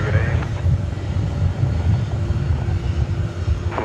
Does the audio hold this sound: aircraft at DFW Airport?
yes